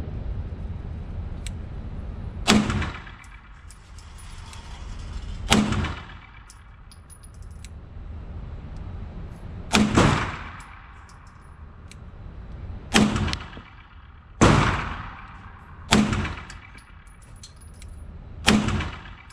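Beretta M9A3 pistol fired on a range, seven sharp loud shots spaced irregularly a few seconds apart, each with a brief ringing decay, no talking between them.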